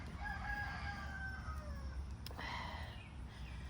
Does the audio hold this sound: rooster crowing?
yes